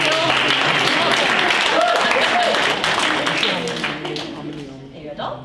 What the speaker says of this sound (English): Let's clap for Sarah and make her feel